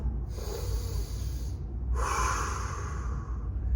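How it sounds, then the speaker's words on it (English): Two deep, audible breaths during a seated mobilization exercise, sitting on the heels with toes tucked: a long inhale, a short pause, then a stronger, breathy second breath, close to the microphone with no talk. "Sit on your heels, deep breath."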